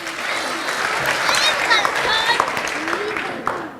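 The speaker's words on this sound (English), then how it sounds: "Round of applause for our kids." Sustained applause from an audience at a children's program, clapping for the kids, steady and moderately loud throughout with a few voices mixed in.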